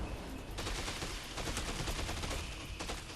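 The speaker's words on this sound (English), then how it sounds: "Screw it, I'll just shoot it." Rapid gunfire from the video game Dead Rising 2: Off the Record rattles out in a dense, continuous burst of loud shots, with no speech over it.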